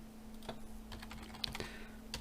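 Someone types on a computer keyboard, producing a quiet, close run of irregular key clicks.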